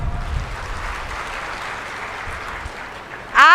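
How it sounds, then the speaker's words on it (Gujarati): An audience at a Gujarati folk-literature talk breaks into sustained applause, an even wash of clapping that holds steady for several seconds before a voice cuts in at the end. "એની તાળીઓ પાડો"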